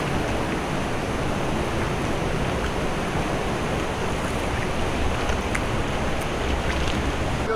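Strong river current pouring at a waterfall in Cagayan de Oro, a loud, steady broadband rush of water that fills the whole scene without pause.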